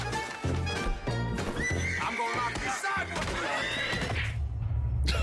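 In a video game, a horse neighs and whinnies loudly while its hooves clip-clop beneath, with game effects mixed in over several seconds.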